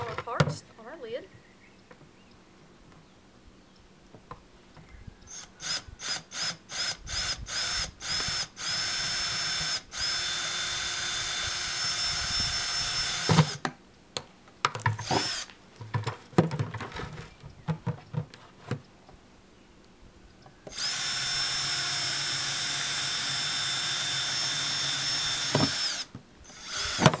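Close power drill boring small holes in a plastic bucket lid: a string of brief bursts, then two long sustained runs, loud and near, with a few scrapes and handling knocks between.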